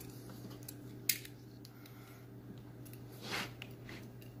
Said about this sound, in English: And we just cut it off as close as we can.